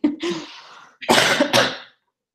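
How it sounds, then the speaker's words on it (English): One person coughs sharply, then clears the throat in two loud, close bursts, with short silent gaps between them and silence at the end. "Oh, I'm so sorry about the cough."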